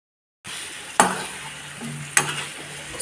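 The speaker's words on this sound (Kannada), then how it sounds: "ಇವಾಗ ಮ್ಯಾರಿನೇಟ್ ಆಗಿರೋ ಪನ್ನೀರನ್ನ ಸ್ವಲ್ಪ ಡೀಪ್ ಫ್ರೈ ಮಾಡೋಣ" Marinated paneer pieces deep frying in oil over a low flame give a steady close sizzle after a silent start, broken by two sharp clinks of utensils against the pan.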